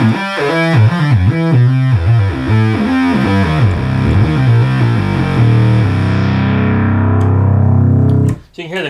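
A serviced Minimoog synthesizer plays a loud, dense, distorted melodic line whose notes slide smoothly into one another with portamento, then swells into a sustained chord that cuts off abruptly near the end.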